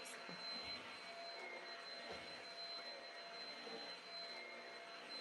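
A vacuum cleaner running steadily in a teenager's room, a faint continuous whine and hum with a few soft bumps from the nozzle, no talking.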